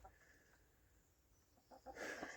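Chickens peck at scattered seed with soft scratching taps, faint and distant, then a louder burst of clucking near the end.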